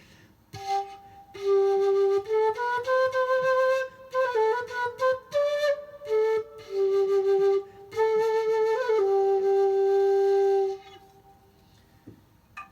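Quena, an Andean flute and the smaller sibling of the quenacho, plays a breathy melodic phrase alone, with separate and slurred notes and brief pauses between them, ending in a long held tone that fades out.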